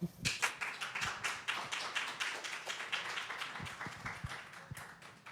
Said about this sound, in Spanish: les pedimos un aplauso, por favor